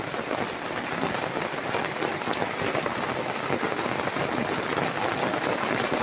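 Very heavy rain drumming steadily on a garden gazebo in a wild garden in Stafford, a dense, continuous hiss and patter close overhead with no voices.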